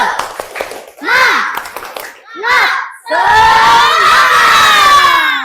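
A fifth-grade class of children in an Indonesian elementary school shouts a cheer in loud unison bursts, with short chanted calls followed by one long, sustained group yell.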